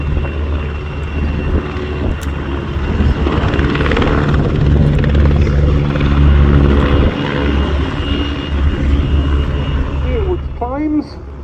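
Czech Air Force helicopters fly a carousel display at an airshow, their loud, throbbing rotor and engine roar swelling and fading steadily as they circle, with a brief higher whine near the end.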